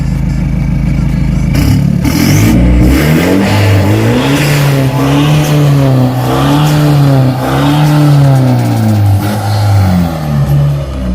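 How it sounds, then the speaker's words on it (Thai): A Nissan Navara NP300 pickup fitted with an aftermarket exhaust revs loudly and up close, its engine note repeatedly rising and falling in long sweeps with no talking. "นี่นะครับเสียงของนาวาร่าก็จะประมาณนี้นะครับ"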